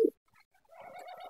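Breeding pigeons in a loft give a short, fairly loud coo at the start, followed by softer, faint cooing murmurs toward the end of the brief moment.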